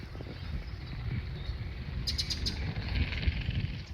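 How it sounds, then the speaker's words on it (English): A warbler gives a short burst of high, thin notes, repeated a few times, over a steady rumbling outdoor background at the Salton Sea, California. "It's the warbler."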